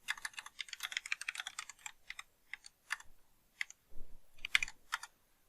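Code is typed on a computer keyboard in quick bursts of crisp, close keystrokes, a dense run at first, then scattered taps and a few heavier key presses after short pauses.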